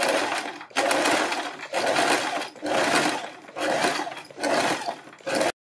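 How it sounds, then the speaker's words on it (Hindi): A sewing machine stitches fabric right alongside a buckram neck piece, running in six loud, even bursts of rapid clatter separated by brief pauses, then stopping abruptly. "बुकरम के बिल्कुल बराबर में सिलाई लगाते हुए यहाँ तक लगाएंगे"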